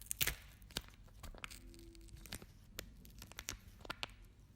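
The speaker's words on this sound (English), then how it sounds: "make sure the transparent mylar tape that covers all 3 connectors is peeled back" Transparent mylar tape being peeled back from the ribbon-cable connectors of an HP Chromebook 11MK G9 laptop gives quiet, close, crackly tearing and crinkling with scattered sharp clicks. It is faint and there is no voice.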